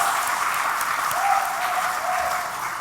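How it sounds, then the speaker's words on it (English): At a public meeting, the audience gives a steady, close round of applause, dense clapping from many hands sustained for a few seconds with a faint tonal murmur underneath. "So let us give her another beautiful round of applause"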